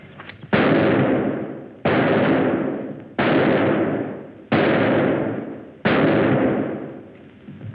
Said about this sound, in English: Good shooting, huh, Jimmy? 9 out of 10.